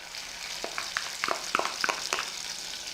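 Chopped onions fry in melted butter in a pan, a constant moderate sizzle with a run of quick spatula taps and scrapes as they are stirred.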